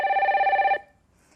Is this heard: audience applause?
no